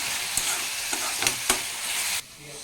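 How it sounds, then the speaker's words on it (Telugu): Onions frying and dry-roasting in a pan for a dried-fish curry (endu bommidaala pulusu), a steady close sizzle broken by a few scraping stirs before the hiss drops off sharply near the end. "ఇక్కడ ఇవి ఆనియన్స్ అయితే ఫ్రై అవుతున్నాయి మంచిగా డ్రై రోస్ట్"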